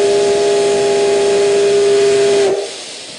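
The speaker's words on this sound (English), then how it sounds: "A steam locomotive runs through the hills of Iwate Prefecture." A steam locomotive in the hills of Iwate Prefecture, Japan, sounds one loud, sustained whistle over a bed of hissing steam for about two and a half seconds, then the whistle cuts off and the hiss fades away.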